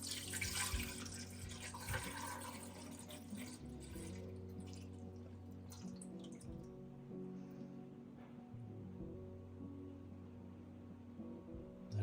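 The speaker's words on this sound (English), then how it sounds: "So now we're gonna add water to the water tank up to the max line again." Fresh water filling the tank of a De'Longhi Dinamica espresso machine, a faint steady trickle and splash from a running tap, quiet and close.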